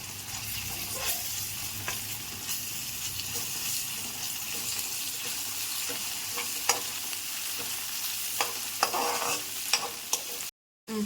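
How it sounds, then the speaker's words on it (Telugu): Ginger garlic paste frying in a pan while being cooked down for a gongura meal maker curry, a steady close sizzle with occasional stirring scrapes and clinks, no talk, briefly cutting out near the end. "అల్లం వెల్లుల్లి పేస్ట్ కూడా వేగిందండి బాగా వేగిపోయింది"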